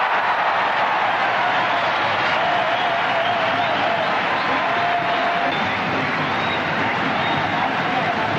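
A cricket crowd at Colombo during the 1996 Singer Cup between Sri Lanka and Australia cheers and applauds loudly and continuously, a dense roar of clapping and voices filling the whole stretch.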